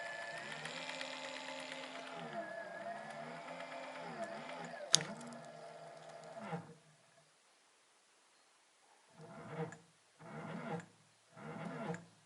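A small electric bike hub motor under repair whirs steadily with a rising and falling whine, then cuts out; after a pause it spins up in three short bursts.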